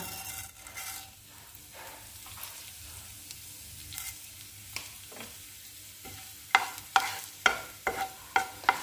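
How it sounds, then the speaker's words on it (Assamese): Cumin seeds sizzle in hot ghee and oil as a spoon stirs the pan, a soft steady frying hiss broken by sharp scraping strokes that come faster and louder toward the end. "এতিয়া ইয়াতে মই দিম জিৰা"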